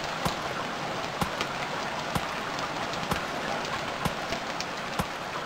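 Steady rain falls in the Stranded Deep survival game, a dense, even hiss with faint regular ticks roughly once a second, and no voices.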